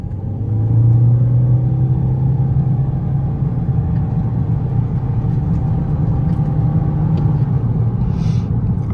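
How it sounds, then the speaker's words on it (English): A 2024 Toyota Corolla Hybrid SE AWD hums low and steady while gathering speed, with road rumble underneath and a slight rise in pitch. "now let's give it a little bit of juice"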